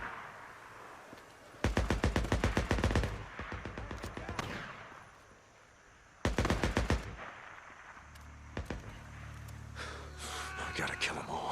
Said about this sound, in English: Okay, shooting has started.